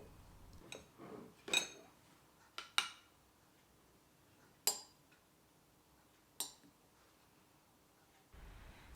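A fork crumbles firm homemade cheese in a dish, giving a handful of sharp, quiet clinks and scrapes spaced a second or two apart against a near-silent background.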